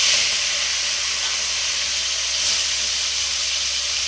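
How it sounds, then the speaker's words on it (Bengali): Bele fish frying in a small amount of oil in a wok, giving a steady loud hiss and sizzle that stays even throughout, with no talking. "এই কড়ার মধ্যে অল্প অল্প করে আমি মাছগুলো সব ভেজে নেব।"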